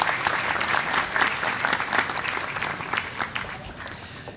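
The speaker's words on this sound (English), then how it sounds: "Can we give them a round of applause, please?" A graduation ceremony crowd gives a steady round of applause that holds at full strength for several seconds, dense and close, then eases slightly toward the end. Faint voices mix into the clapping.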